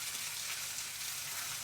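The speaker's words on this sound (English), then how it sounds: "There we are, sizzling away nicely." Pieces of beef brisket fry in a hot pan, giving a steady, even sizzle with fine crackle throughout, close and continuous, with no talking.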